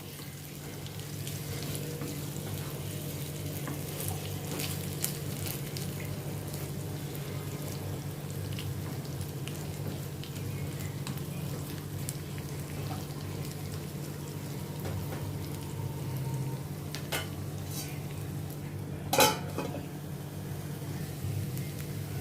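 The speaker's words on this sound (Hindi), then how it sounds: "अभी इसको उलटते पलटते हुए मैं अच्छी तरह से इसको अभी मैं फ्राई करती हूँ थोड़ा।" Arbi (taro root) being fried and stirred in a pan gives a steady low sizzle throughout, with occasional light utensil clicks and one sharper scrape near the end; no one speaks.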